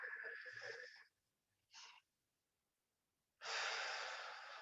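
Slow, deep breaths during a yoga session: a long airy inhale, a short sniff, then a strong drawn-out exhale, close and intimate in an otherwise silent room.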